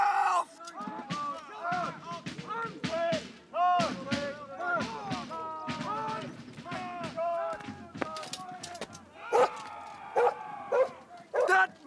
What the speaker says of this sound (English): Corporal, take this dog away and shoot it!